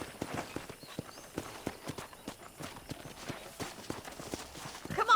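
Horse hooves clip-clop at a steady walking rhythm in the Red Dead Redemption video game, fairly quiet and even, with a brief whinny near the end.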